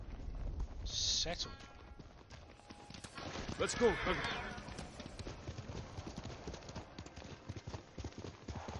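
Horse hooves clip-clop in the Ghost of Tsushima video game, a steady trotting rhythm under in-game ambience, with a voice talking over it.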